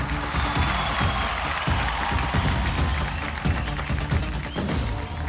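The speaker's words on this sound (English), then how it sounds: "A big round of applause for the talented superstar herself, Alia Bhatt." Audience at a film promotion event applauding and cheering, a dense continuous wash of clapping and crowd noise that stays loud for the whole stretch.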